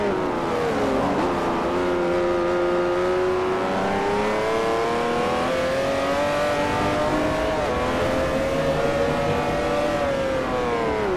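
Mercedes-AMG GT-R race car engine in Forza Motosport 4, loud and close, revving steadily upward with a rising harmonic whine through a long acceleration, brief dip near the start, continuous with no talk.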